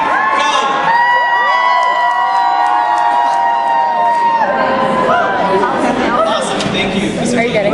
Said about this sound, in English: We'd like your best cheering, going insane, happy that we were Gold Eco School.